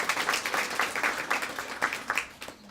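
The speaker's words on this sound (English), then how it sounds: "Let's give them a round of applause." An audience gives a round of applause at a community event held at the Temecula Creek Inn. Individual claps are clearly separated, forming a short, moderately loud burst of clapping.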